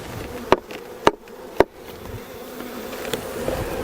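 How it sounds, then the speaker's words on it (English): Honey bees buzz inside an Apimaye NUC hive, a steady close hum broken by three sharp knocks on the box early on, with one fainter knock later. "Now this one is full of bees on the inside"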